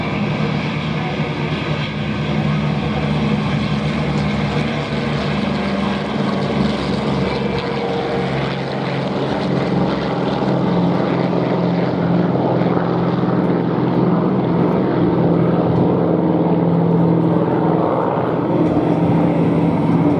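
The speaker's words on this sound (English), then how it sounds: "Curtis's P40, Merlin engine, P36 and Hawk 75." Vintage propeller fighters, Curtiss P-40 with Merlin engine, P-36 and Hawk 75, drone overhead at an air show, a sustained, steady engine roar holding for the whole stretch.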